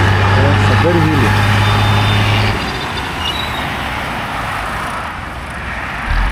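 A truck labours up a hilly road, its low engine rumble steady and loud at first with a brief horn-like tone, then easing into a continuous broadband roar, while a person talks over it.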